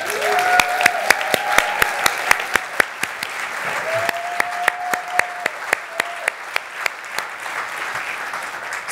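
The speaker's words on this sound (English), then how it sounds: "I want to give another round of applause and a thank you to Marcy Welland" Warm applause for Marcy Welland fills a hall, with many hands clapping together and a few sharp, loud claps close by. Brief whoops or cheering voices rise over it.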